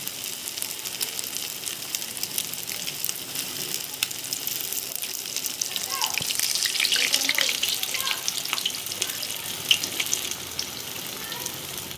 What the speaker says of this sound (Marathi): यांना तसंच आधी आधी तळून घेऊया आणि मगच त्यांना हलवायचं